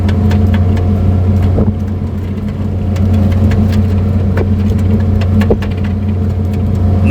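Sir Paul's car speeding along a road, heard as a loud, steady engine drone with continuous road rumble and a few faint clicks, and no voices.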